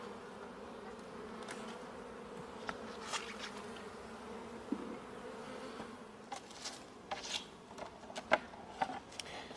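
Honeybees buzzing steadily around an open hive during a summer inspection, a close, continuous drone with individual bees passing near and brief clicks and knocks toward the end.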